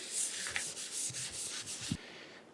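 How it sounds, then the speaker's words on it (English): Hand scrubbing of grease from the carriage of a Monarch 612 lathe, a steady abrasive rubbing with brief knocks and a few scraping strokes, close and moderately quiet, no voices. "give this thing a good scrubbing."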